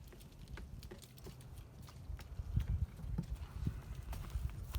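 A donkey's hooves clip-clopping on hard ground at a farm, a quick, irregular run of close, dull knocks over faint background noise.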